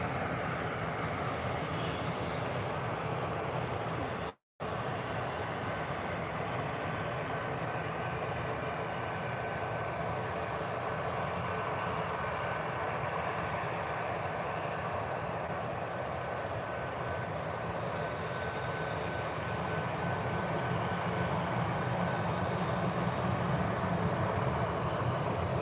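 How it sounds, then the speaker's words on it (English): An EasyJet Airbus A320 departs Birmingham Airport with a sustained broad jet engine roar, steady and fairly loud throughout apart from one momentary dropout. "EasyJet A320 heading out"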